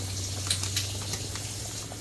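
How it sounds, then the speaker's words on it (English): Beef bone broth boils in a pot on the stove, a continuous soft bubbling with small pops over a low, steady hum. "now that we've got this broth boiling really good"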